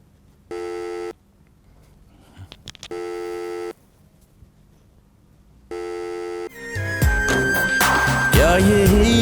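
An outgoing telephone call rings: three evenly spaced ringback tone bursts, clear and alone, then music swells in.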